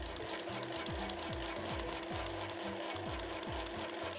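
A sewing machine stitches Liberty cotton scraps and nylon for a small pochette, a constant close whirring with a regular rhythmic thump of the needle mechanism repeating several times a second.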